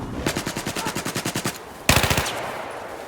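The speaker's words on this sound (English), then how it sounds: "Can't see where the bullets are coming from" Rapid automatic gunfire from a Battlefield 4 firefight, a steady burst of evenly spaced shots followed by a short pause and a louder, closer second burst that fades out, with no talking.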